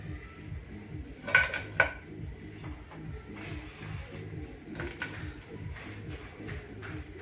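Spatula clinks and scrapes against a pan as jaggery is sautéed for fresh coconut barfi, a couple of sharper knocks early on, over a faint steady low rhythmic hum.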